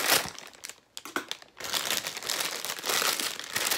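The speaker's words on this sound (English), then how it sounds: "let me go ahead and open this with my broke scissors" Plastic packaging of a Target baby registry welcome bag being opened with scissors, close crinkling and crackling with a few sharp snips and tearing rustles, no talking.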